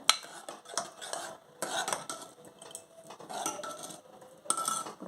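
A ladle scrapes and clinks in a pot of well-cooked spinach dal, a series of irregular close metallic stirring strokes and soft wet sloshes with short pauses between them.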